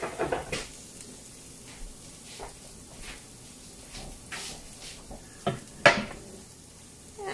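Frying pan of peppers and onion tilted to shake out grease, faint soft scraping and sizzling with a few light clunks of metal, close and quiet, no talk.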